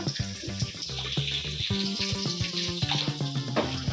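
Garlic paste and ginger paste sizzle loudly in hot oil in a pan, a steady close frying crackle throughout, with a faint tonal hum beneath.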